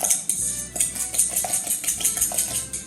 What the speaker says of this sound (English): I'm gonna put the sugar and I'll start beating a little bit